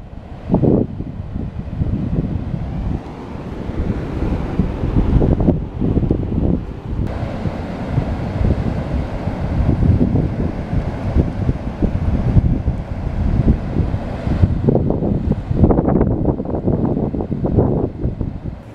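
Water roars through the fully open Cheboygan Dam in Michigan while strong wind buffets the microphone, a loud continuous rushing rumble with gusty surges and no talk.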